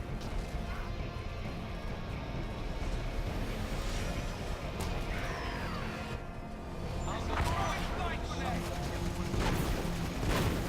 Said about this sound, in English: This turret is getting sieged upon by the orbital strike as well.